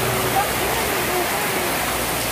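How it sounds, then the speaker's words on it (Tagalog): Heavy rain pours down in a steady, dense hiss, loud and close throughout, with a faint voice in the background. "Ang lakas ng ulan."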